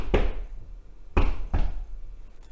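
Knocks imitating a heartbeat's first and second heart sounds, three dull thumps in a loose pattern with a pause, close and fairly soft, no talking.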